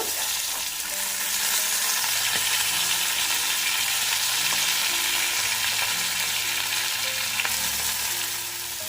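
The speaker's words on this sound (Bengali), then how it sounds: "ওই একইভাবে আরও তিন পিস মাছ আমি ভেজে নেব" Pieces of fish frying in hot oil for a Bengali fish curry, a steady, loud, close sizzle running unbroken throughout with no talking.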